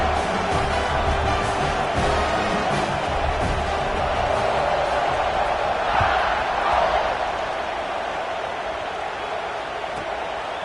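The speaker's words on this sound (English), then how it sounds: "this crowd is buzzing after that last score." Football stadium crowd buzzing after a touchdown early in a college game, a loud, steady roar filling the whole stretch with a slight swell in the middle.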